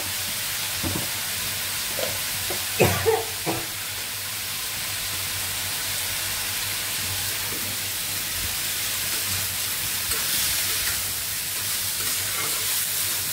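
Spices with turmeric and salt fry in hot oil in a pan for a stem chorchori, giving a steady close sizzle and hiss with a few utensil knocks early on.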